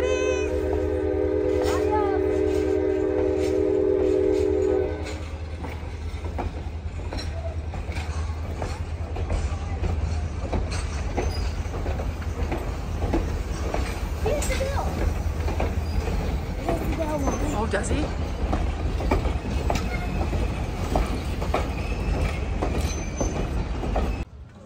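Polar Express excursion train in Williams, Arizona, rumbling along with a low steady roar, rhythmic wheel clatter and a whistle blast at the start, while passengers chatter throughout the ride.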